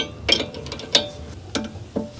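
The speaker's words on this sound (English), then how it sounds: "Now here I'm gonna use the open end wrench to hold that slide pin while I tighten this." An open-end wrench works a caliper slide pin bolt on a Honda Odyssey rear brake, giving four sharp metallic clicks spaced about half a second apart, close and clear with no talking.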